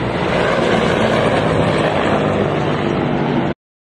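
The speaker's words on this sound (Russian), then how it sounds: "А вот вы видите видео, как вертолеты покидают место нанесения удара." Combat helicopters leaving an airstrike site at the Belgorod oil depot, a loud, close, continuous rotor and engine roar that holds steady and then cuts off abruptly.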